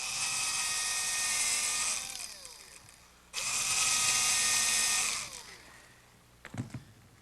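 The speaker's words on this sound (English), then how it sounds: "I'm going to have to drill a pilot hole for the screws" A power drill bores a pilot hole for screws in hard oak, with two sustained high whining runs separated by a pause, then a few quick knocks at the end.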